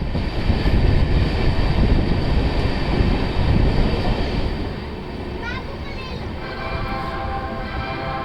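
Azimabad Express train of Indian Railways at Anand Junction, a loud steady rumble of wheels and carriages that eases midway, with faint squeals and a distant horn-like tone near the end.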